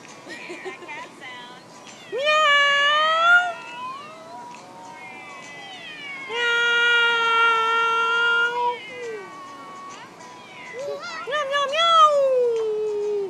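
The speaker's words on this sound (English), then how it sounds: "Oh, the cat came back." A cat lets out three drawn-out, wavering meows indoors, each rising and falling in pitch, loud and close, with quiet gaps between them.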